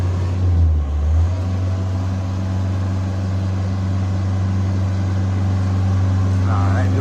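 The Deutz diesel engine of a 1999 JLG 600S boom lift idles steadily and loudly nearby with a deep, even drone, briefly swelling at the start, and a voice speaks over it.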